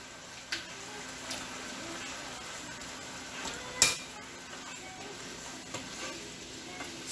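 Lobster sauce sizzles steadily in a hot pan as it is stirred, a constant frying hiss with occasional soft clacks of the utensil against the pan.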